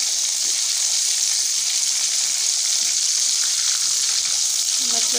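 Fish frying in hot oil at home, turned with a kafgir rice ladle: a dense, loud, continuous hiss of sizzling oil, steady from start to finish, with a faint scrape of the ladle near the end.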